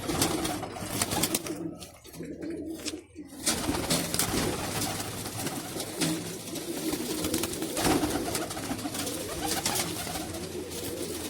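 Pigeons kept in a coop coo steadily for the whole stretch, a low, continuous murmur of several birds close by, with scattered background noise.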